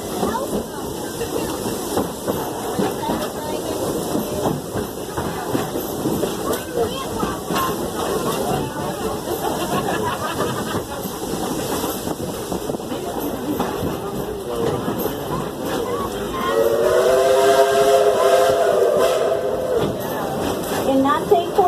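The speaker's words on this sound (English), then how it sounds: "She is a genuine coal-fired steam engine." A coal-fired steam locomotive at Dollywood hisses and chuffs steadily, with rail clatter underneath and voices at times. Near the end its whistle sounds loudly for a few seconds.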